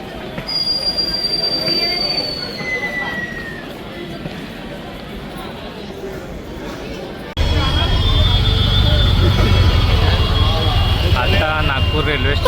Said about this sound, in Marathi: ही आपली ट्रेन होती.